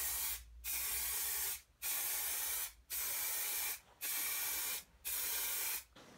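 Spray gun laying primer onto a Toyota MR2 body panel being repaired after a deep dent, heard as six steady hissing bursts of about a second each, separated by short pauses, close and alone.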